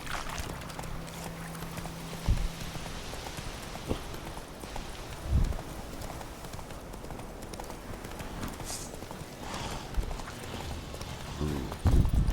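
Roach, the horse in The Witcher 3 game, gallops with a steady rhythmic clip-clop of hooves over a constant background bed, with a few heavier thuds along the way.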